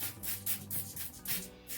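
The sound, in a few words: spraying paper towel during acrylic paint pouring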